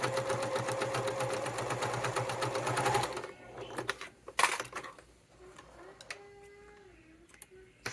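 A sewing machine stitches close to the edge of a fabric wallet, a fast steady mechanical chatter for about three seconds that stops abruptly, followed by quieter handling rustles and clicks.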